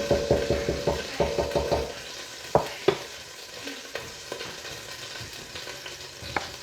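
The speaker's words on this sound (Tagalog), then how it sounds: "First garlic. Saute the garlic guys." Garlic sizzles in a hot pan while being stirred, with a burst of rhythmic scraping at first, then steady frying and occasional sharp clinks of the utensil against the pan.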